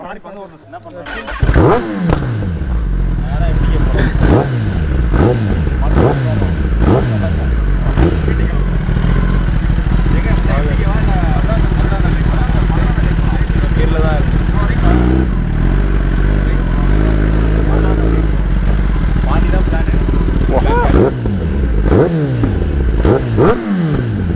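A motorcycle engine idles and revs in several sharp bursts after the ignition is switched on at a riders' club meetup, loud and close throughout, with people talking over it.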